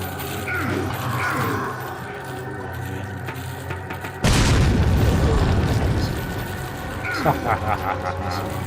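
A grenade in a video game goes off with one sudden, loud, low boom partway through. The blast rumbles and fades, with quieter mechanical game sounds before and after.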